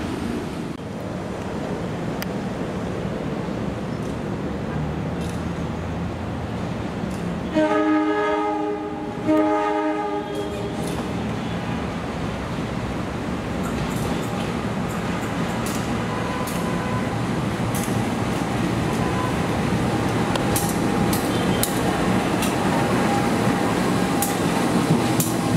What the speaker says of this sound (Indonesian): Akhirnya keluar juga lokomotif vintage.